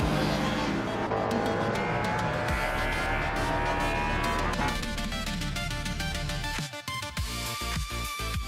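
Race cars roar continuously through a video game race, engines buzzing loud and close with shifting pitch as several cars battle for position, a brief dip near the end before the engines surge again.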